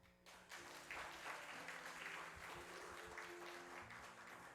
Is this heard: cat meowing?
no